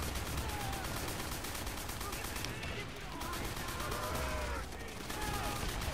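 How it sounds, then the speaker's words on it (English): Continuous distant battle fire in World at War, a tank shelling amid rattling guns, heard as a steady dense wash of shots and booms with no clear gaps. "Why is there a fucking tank shooting at us?"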